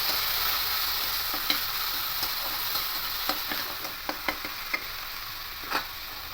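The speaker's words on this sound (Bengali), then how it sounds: "এই পেঁয়াজটা দিয়ে দেবো দিয়ে হালকা করে নেড়ে নেবো" Grated onion frying in oil for an egg omelette curry, a steady hiss of sizzling with a run of light ticking taps as a spatula stirs it, close and even, no talking.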